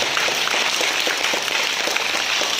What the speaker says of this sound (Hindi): एक बार उनके लिए जोरदार तालियां एक बार।